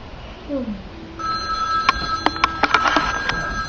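A telephone rings in a room, several sharp repeated bell-like trills rising over a faint background murmur.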